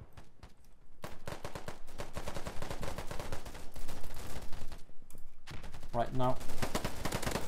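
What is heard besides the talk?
gunfire from an enemy player in a video game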